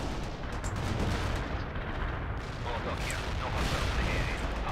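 Constant rumble of explosions and crackling gunfire from the World in Conflict video game, dense overlapping blasts with heavy low booms throughout, with voices talking over the battle.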